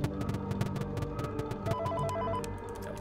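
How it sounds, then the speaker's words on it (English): A phone rings in the horror game Rejected Custom Night: Reborn, a repeated electronic bell trilling in quick bursts, clear and upfront with game ambience underneath. "I didn't even realize that phone call was there"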